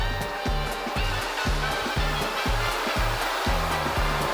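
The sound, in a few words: robot vacuum running, lifting its mop on carpet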